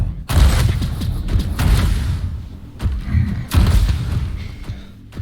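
Rockets exploding in a first-person arena duel game, heavy booming thuds landing in quick bunches with a rumbling low end, close and loud.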